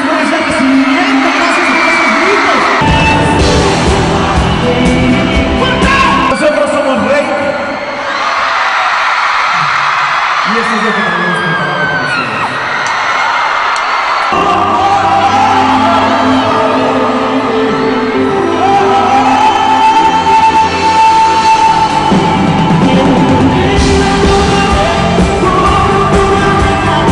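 A concert crowd at the Coliseo Centenario in Torreón yells, whoops and cheers loudly for the band, a dense sustained roar with rising shouts and bursts of noise.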